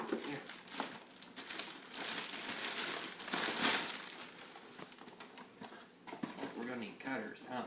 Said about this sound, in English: Daddy, pull the plastic.